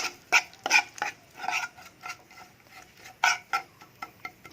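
Peanut butter sauce is stirred and mixed in a bowl, making brisk, irregular scraping and clinking strokes of a utensil against the bowl, close and fairly quiet, with short pauses between bursts.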